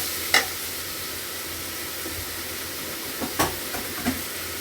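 Onions frying with salt in a pan for kichadi, giving a soft steady sizzle with a few brief scraping stirs of a spoon, close and fairly quiet, with no talking.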